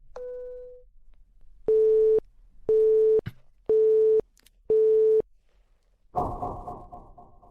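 A telephone call going unanswered: a single tone, then four evenly spaced loud beeps of a busy or ringing signal on the line, ending in a burst of harsh noise, with no voices.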